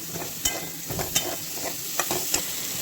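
Black village-grown dried chili added to a kadhai of frying potato for sabudana khichdi, giving a steady close sizzle with a few sharp stirring clinks and scrapes of the spoon against the pan.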